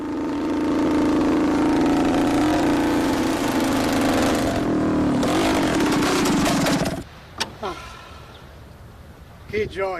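A Vespa 125 Corsa scooter engine, the 1950 racing model, drones loud and steady with a buzzy, lawnmower-like tone for several seconds, then cuts out, leaving faint scattered noises.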